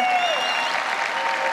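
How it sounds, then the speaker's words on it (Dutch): Loud, full applause from a tennis crowd at an exhibition event greets player Martin Verkerk, a continuous roar of clapping with a faint tonal hum running beneath it. "Ja, applaus,"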